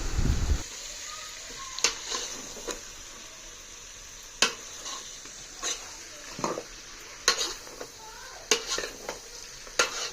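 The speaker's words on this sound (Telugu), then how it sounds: "ఇప్పుడు చికెన్ వేసినాక బాగా మిక్స్ చేయాలి కలబెట్టాలన్నమాట" Chicken is stirred into fried onions in a pan, producing a soft continuous sizzle punctuated by repeated sharp scrapes and clinks of a spoon against the metal, close by and without talk.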